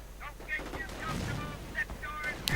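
Grenade explosions and gunfire in a World War II strategy game with riflemen under fire, a dense stream of sharp, crackling bursts under steady commentary.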